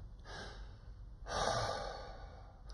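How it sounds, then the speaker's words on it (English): Slow, relaxed out-breaths during a classical singing breathing exercise, two soft airy exhales in a row, the second longer and fuller, heard close and alone with no talking. "make that out breath, the recoil breath as I'm calling it, slightly longer"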